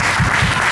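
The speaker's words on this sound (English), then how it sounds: "let's give them a big round of applause." Brief burst of loud, dense applause from an audience at a children's Sanskrit play about Krishna and Sudama, sustained and close.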